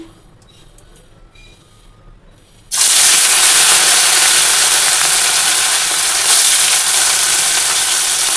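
Fish drops into hot oil with turmeric and bursts into a loud, sustained hissing sizzle after a few quiet seconds, staying close and steady.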